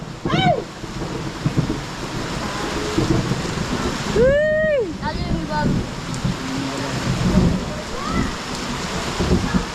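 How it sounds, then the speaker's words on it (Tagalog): Heavy rain pours in a steady, dense roar during a storm, with no clear thunderclap standing out, while people talk and a voice rises over the downpour. "Inabot ng malakas na ulan."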